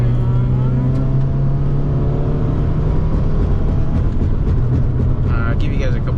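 Car engine driven with a Megan Racing shifter, a steady loud engine drone and road rumble that holds at constant pitch, with some faint higher noises near the end.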